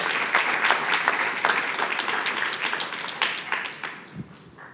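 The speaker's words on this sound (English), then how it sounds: "Everybody give a big round of applause to Kim Sanchez" An audience claps in sustained applause at moderate loudness, the sound thinning and tapering off toward the end.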